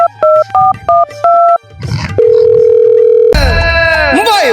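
A phone keypad beeps through a quick run of two-tone dialing presses, then a steady dial tone hums, followed by a burst of rising and falling electronic tones, all close and loud.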